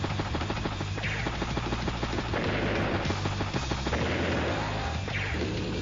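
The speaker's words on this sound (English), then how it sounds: "The missile does get a good strike there on the bomber." Missile strike hitting a bomber in Advance Wars: Days of Ruin, heard as dense, continuous explosive crackle and rumbling impacts with a couple of sharper hits, loud and unbroken throughout.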